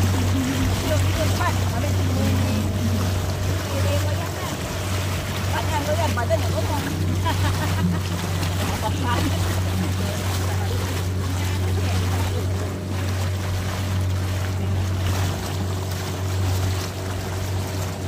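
A motorboat's engine hums steadily while the hull thumps over choppy water, with people talking faintly underneath throughout.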